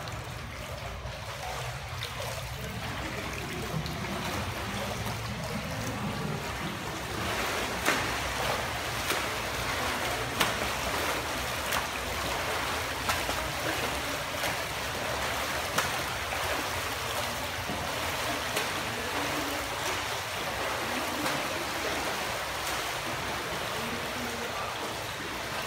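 A swimmer does a long-distance front crawl lap in a pool, with steady splashing and churning water that stays even, dense and fairly distant throughout, with no voices.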